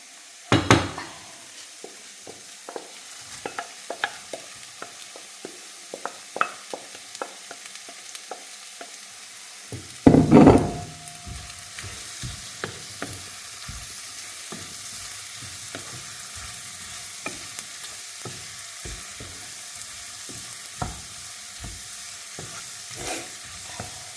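Garlic, ginger and curry leaves sizzle in a pan of oil for a Kerala-style beetroot pickle, a steady close frying hiss with scattered stirring scrapes and a sharp loud pop of sputtering midway.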